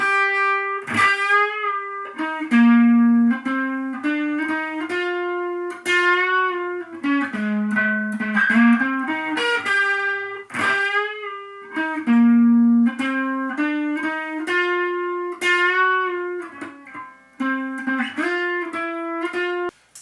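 A melodic lead guitar solo with a processed, synth-like effects tone, bending and sustaining notes in phrases, played alone and fairly loud.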